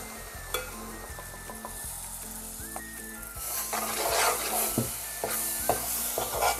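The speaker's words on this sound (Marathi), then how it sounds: "तेलावर परतवून घेते।" Ground masala paste for a Bombay duck curry sizzles in hot oil while a spoon scrapes and stirs it in repeated strokes, with the frying growing louder and denser midway through.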